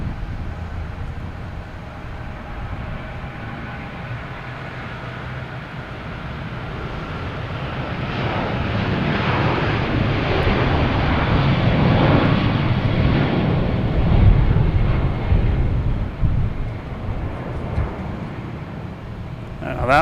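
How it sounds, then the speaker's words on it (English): An American Airlines Boeing 777 jet departs Boston Logan bound for London Heathrow, its broad engine roar building steadily from a distant rumble to a loud peak, with voices talking over it. "American Airlines 108 777 heading to London Heathrow."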